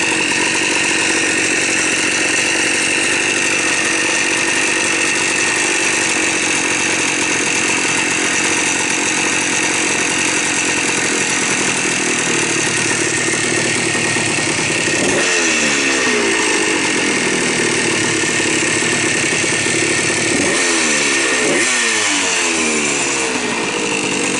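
A 1982 Yamaha IT175J two-stroke dirt bike engine runs loud and close after its first start in twelve years, a buzzing, raspy idle with two sharp revs near the end.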